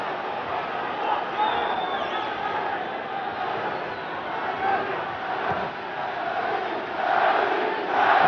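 A boxing arena crowd roars and cheers during the ring introduction for boxer Kevin Kelly, a broad, sustained din heard from a distance that swells louder toward the end.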